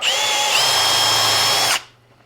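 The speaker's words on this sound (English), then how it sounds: "I pre-drill so nothing cracks" A power drill pre-drilling wood for a screech owl nesting box whines steadily at high speed for nearly two seconds, then cuts off and spins down into near silence.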